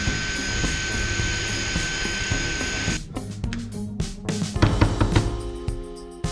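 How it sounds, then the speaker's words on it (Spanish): A Parkside Performance power drill without hammer action whines steadily at high pitch, then its tone shifts as it bites into material, grinding unevenly with clicks and rattles, loud and close. "La lástima es que este taladro no tenga percusión."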